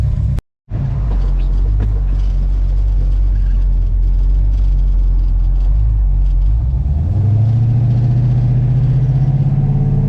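A 1969 Dodge Charger General Lee pulls away, its engine rumbling steadily and close, then rising to a louder, deeper pitch as it accelerates after a brief dropout near the start.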